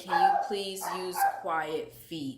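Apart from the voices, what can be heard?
dog barking in the background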